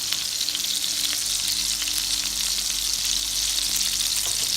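Chopped onion and garlic hit melted butter with a little olive oil in a pan for pork picadillo, giving a loud, steady, dense sizzle with crackling throughout and no voices.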